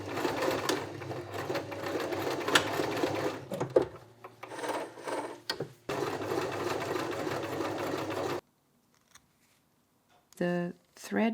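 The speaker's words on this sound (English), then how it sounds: "I'm first gonna do one row of stitches with large stitches to gather this portion" A sewing machine runs in rapid bursts while stitching a row of large gathering stitches on thrifted clothing, pausing briefly between runs, then falling silent before a final short burst.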